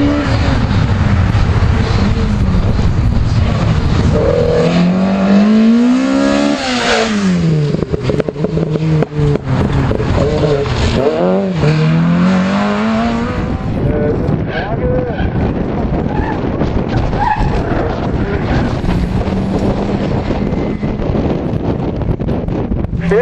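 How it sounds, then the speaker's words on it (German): A small rally car at a rally sprint in Blankenburg drives through a chicane. Its engine rises and falls as it brakes and accelerates, heavy wind noise buffets the microphone, and a commentator talks throughout. "Das kleine Auto hier in der Schikane."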